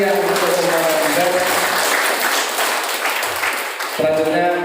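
An audience at a village head election event claps for all the candidates, dense loud applause filling the space, with an announcer's voice heard at the start and end.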